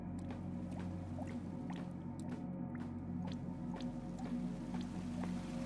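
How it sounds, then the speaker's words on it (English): Water dripping in the video game AER Memories of Old, a temple setting: faint, scattered drips at an irregular pace over a steady low hum and drone, with no talking. "The, like, dripping water."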